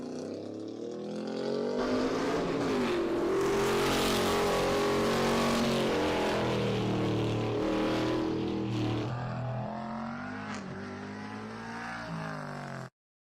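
Race cars circle a mountain road course at a muscle car event, engines swelling loudly as they pass near, rising and falling in pitch through gear changes, then fading away before the sound cuts off abruptly.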